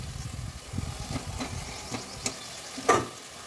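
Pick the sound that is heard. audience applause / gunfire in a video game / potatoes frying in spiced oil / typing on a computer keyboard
potatoes frying in spiced oil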